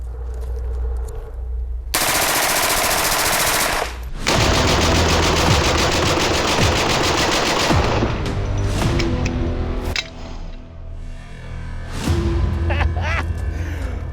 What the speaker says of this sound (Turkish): şu ortadaki hedefe bütün hepsini boşaltmanı istiyorum. Tek seferde.